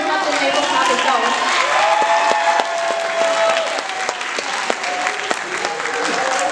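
An audience at a show applauds itself in sustained, loud clapping that fills the room steadily, with some cheering mixed in and a voice speaking over the top.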